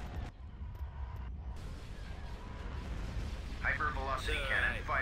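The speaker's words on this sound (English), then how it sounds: "Hypervelocity cannon firing." Hypervelocity cannon fire in the Star Wars strategy game Thrawn's Revenge: a continuous, heavy rumbling barrage of booms fills the battle soundscape, with a rising tonal sweep layered over it near the end.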